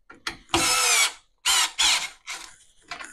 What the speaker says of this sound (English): So we'll screw it in till tight.